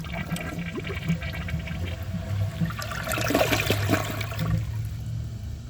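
A 2002 Kohler Gabrielle toilet with mineral buildup flushes a washcloth, with close rushing and gurgling water that surges in the middle and then settles into a trickling refill.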